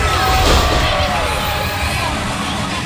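A large crowd roars and cheers loudly and continuously, a dense wall of noise filling an indoor wrestling venue.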